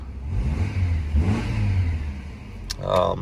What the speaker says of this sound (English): But give it a rev.